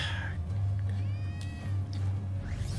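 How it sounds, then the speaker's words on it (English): A cat meows in the video game Gravity Rush, a few wavering high cries over a steady low game hum and music bed, moderately loud. "Cat."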